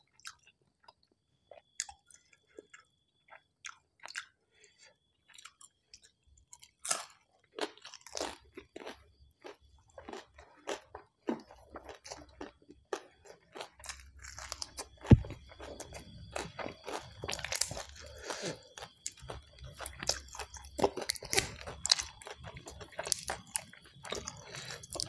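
Crisp, close crunching and chewing from a meal of fried dried tilapia, bamboo shoot curry and papaya salad, loud irregular bites that grow denser as eating goes on, with no talk.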